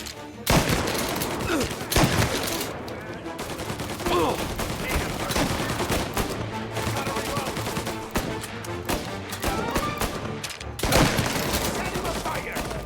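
Gunfire from the video game Mafia: dense bursts of rapid shots and machine-gun rattles. They pile up loudly and almost without pause, mixed with shouted voices and battle noise.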